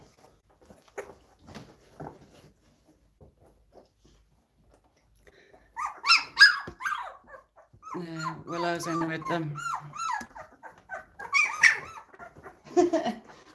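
A dog barks and growls in short bursts, fairly close, with a person speaking briefly in between and quieter stretches early on.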